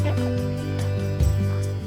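Ducks and geese on a farm, honking and quacking in a quick overlapping cluster of calls, close and loud, with a few sharper squawks standing out.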